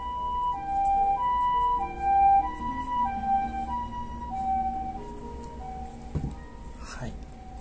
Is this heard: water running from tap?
no